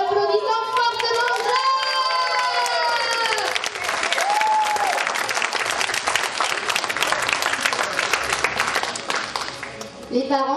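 Loud, dense applause from an enthusiastic audience filling a hall at the Vieux Moulin, continuous for about ten seconds, with voices and a few bright tones audible at the start.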